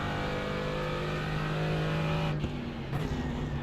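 A white Porsche race car in iRacing roars past with a steady, loud mid-pitched engine drone and a brief gear shift near the end, heard alone.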